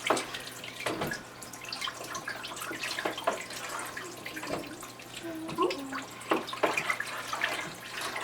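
Nutrient solution is stirred by hand into water in a hydroponic tank, giving soft sloshing, dripping and swirling splashes, close and continuous, with a low steady hum underneath.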